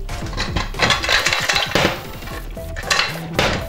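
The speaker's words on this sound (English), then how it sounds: "So I'm going to be pouring this into the pot to cook" Diced yam chunks clatter and knock against a metal pot in a quick burst of clinks and thuds, then a few more scattered clanks.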